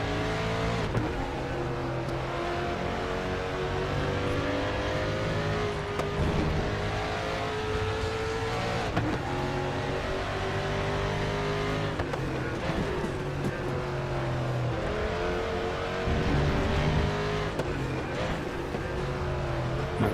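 A 1992 Ford Mustang DTM race car in RaceRoom revs hard and steadily, its loud engine droning and rising and falling through gear changes for the whole stretch, close up with no voices.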